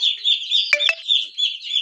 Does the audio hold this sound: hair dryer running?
no